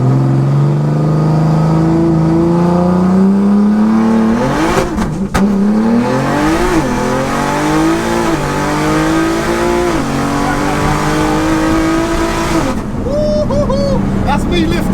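A 1400 bhp BMW launches hard and accelerates, its engine roaring loudly with rising pitch through gear changes and a brief pause at a shift, loud and close throughout, with a short bit of speech near the end.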